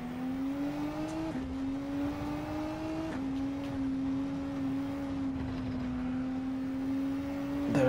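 Race car engine in Gran Turismo 7 on the Alsace circuit, a steady, loud tone climbing through the gears with quick shifts roughly every one to two seconds, running alone without talk.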